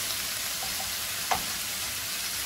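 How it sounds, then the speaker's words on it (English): A pound of large shrimp stir-frying in a hot pan gives a steady close hiss of sizzling, broken by a single brief scrape of stirring partway through. "Okay, so give it a good stir fry."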